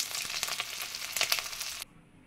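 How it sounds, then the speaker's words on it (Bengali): Pieces of bata fish sizzle in hot oil in a pan, a crackling spitting hiss with sharp pops, moderately near, then cutting off suddenly to quiet. "বাকি মাছগুলো ঠিক একই পদ্ধতিতে ভেজে নেব।"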